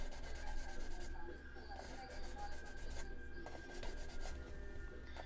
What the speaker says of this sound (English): Hopefully this ultra smooth sandpaper will get rid of it.